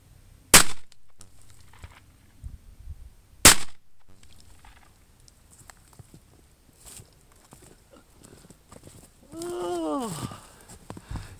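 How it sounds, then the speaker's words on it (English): Mossberg 930 shotgun firing slugs outdoors, two sharp loud blasts a few seconds apart, then quieter handling noises and a brief voice. "Load up a couple more slugs, shoot this baby, and let you guys see it up close."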